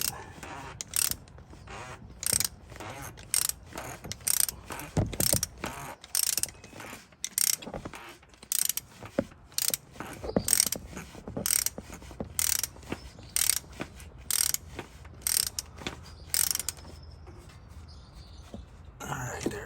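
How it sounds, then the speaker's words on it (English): A ratchet tightening a Motivx oil filter clamp during an oil change on a third-generation Toyota Tacoma, with rapid repeated clicking in bursts, close and crisp, with brief pauses and some soft talk. "we're gonna put our MotiFX clamp, and then we're just gonna tighten it"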